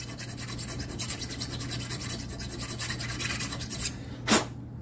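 A tool scrapes around the inside circumference of a freshly drilled hole to deburr it, making a continuous soft rasping rub close by that ends in one brief, louder scrape.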